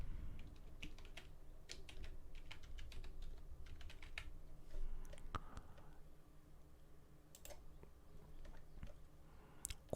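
A password being typed on a computer keyboard, a quiet run of soft, irregular key clicks close by, continuing steadily with brief pauses and no talking.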